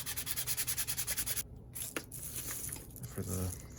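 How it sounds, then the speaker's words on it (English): Parts of an HO scale steam engine kit are sanded by hand, with a fast, rhythmic series of close, scratchy rubbing strokes, then a pause and slower, irregular scraping and rubbing. "Just finishing things up with a bit of sanding here and there."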